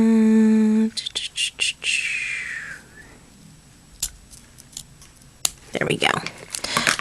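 Several quick snips of scissors cutting ribbon close up, then a longer slicing glide, with soft rustling and a few sharp clicks; a tone sounds at the start.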